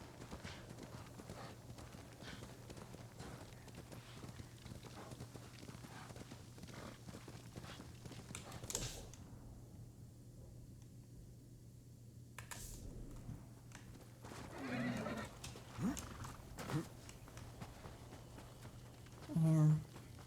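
Hoofbeats of a horse galloping fast across open ground in the game Ghost of Tsushima, a steady clip-clop rhythm running throughout under a continuous voice talking, with brief louder bumps and a short whinny-like burst near the end.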